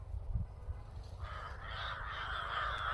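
A flock of crows caws near a house, a low rumble at first, then a steady chorus of overlapping harsh caws from the middle onward, moderately close.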